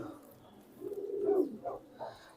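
Racing pigeon cooing softly in a loft, a few low throaty coos rising and falling close by over faint background noise.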